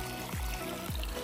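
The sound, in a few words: water flowing and dropping in a field canal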